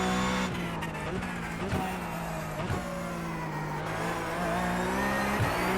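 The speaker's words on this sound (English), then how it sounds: "Get a bit of oversteer going as well." A rallycross racing video game car slides into oversteer, its engine droning loud and steady with tire squeal and skidding scrubbing through the drone and no talk over it.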